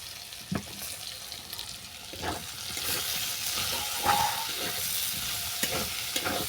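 Chopped tomato and chilli powder sauté in a pan with taro for a shrimp chochori, a wet continuous sizzle broken by repeated close scraping and stirring strokes, with no one talking.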